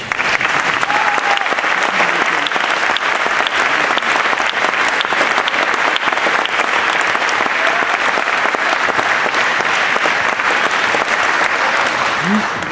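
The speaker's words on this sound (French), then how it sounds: "je vous demande de l'applaudir très fort" A large audience applauds steadily and loudly, continuous clapping sustained throughout with no break.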